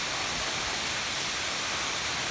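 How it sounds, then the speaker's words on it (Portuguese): A tall waterfall pours in a steady, unbroken roar of rushing water, loud and constant throughout with no voices. "a cachoeira alta."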